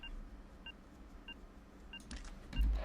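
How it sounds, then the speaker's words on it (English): Anomaly detector in S.T.A.L.K.E.R. beeping faintly at a steady rhythm, four short evenly spaced tones roughly every 0.6 seconds, followed by a louder rustle and thump. "The beeping is an indication that there's an anomaly nearby"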